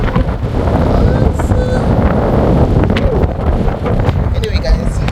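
Wind buffets a microphone outdoors on a sunny but chilly day, a loud, constant low rumble with gusty swells throughout, and a voice faintly mixed into the roar.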